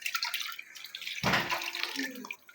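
Rice-washing water poured into a cooking pot as broth for kinamatisang baboy, a close splashing gush rising midway and trickling off, no talk.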